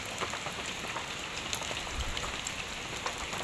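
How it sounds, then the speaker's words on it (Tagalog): Light rain from a typhoon falls steadily outdoors, a dense, even hiss of drops with faint scattered pattering and no voices. "mahina na po yung ulan para pong ambon na laang"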